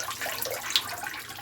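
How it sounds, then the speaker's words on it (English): Water drains out of a sink after soaking spun wool, with a soft, fairly close gurgling and trickling wash that runs steadily, with no voices. "let's let the water out of the sink"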